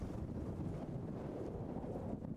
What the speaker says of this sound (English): Watch the wind.